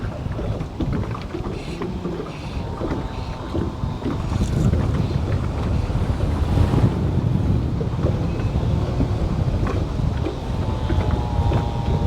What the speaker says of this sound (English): Just need the gust to slow down to about 15 instead of 25 here.